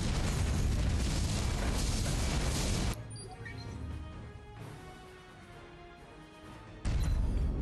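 A Borg vessel blows up in the space combat game Star Trek Legacy, a loud sustained explosive roar that cuts to a quieter rumble and then swells back to a heavy blast at the end.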